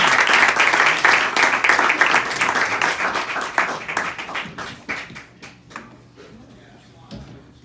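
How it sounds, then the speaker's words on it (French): An audience at a French-language open mic bursts into loud applause, dense clapping that thins out and fades over several seconds with no talk over it. "Je vous demande de faire un tonnerre d'applaudissements pour Sibo."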